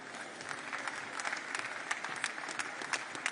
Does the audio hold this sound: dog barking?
no